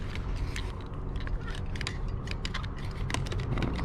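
A clamp being cranked tight on a split door jamb repair, giving a steady run of close mechanical clicks, creaks and ratcheting over a low grinding background.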